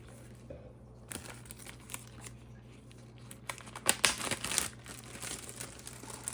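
A plastic baggie crinkles and rustles in short, irregular bursts as its corner is snipped off while preparing homemade lotion, fairly quiet and close, with a faint background hum.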